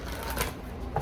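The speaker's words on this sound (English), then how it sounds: "One more shuffle." Cards of a tarot deck riffled and shuffled by hand in a quiet room, a steady papery flutter lasting about a second with a brief snap near the end.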